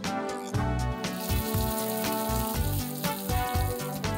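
Oil tempered with mustard seeds, red chilies and curry leaves, poured over South Indian tomato chutney, giving a steady close sizzle with crackling pops throughout, no talk.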